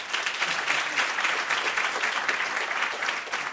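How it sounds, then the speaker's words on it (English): Conference audience gives a steady, loud round of applause, dense and continuous throughout, with no talk over it. "Much louder, a round of applause"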